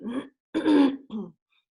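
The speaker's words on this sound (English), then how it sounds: "I even have to clear my throat" A person clears their throat in three short, gravelly bursts, the middle one longest, close to the microphone with no talking.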